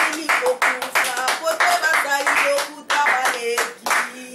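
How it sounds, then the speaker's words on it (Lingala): A crowd at a Christian gospel gathering claps in a steady, dense burst of applause, close and lively, with voices mixed into the clapping. "Sous les acclamations."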